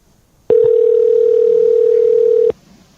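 A single steady telephone tone sounds while a call is placed, loud and unbroken for about two seconds before cutting off, with nothing else playing over it.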